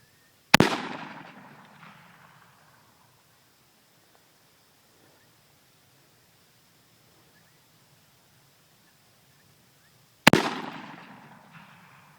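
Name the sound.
rifle shot at a coyote, 17 Stinger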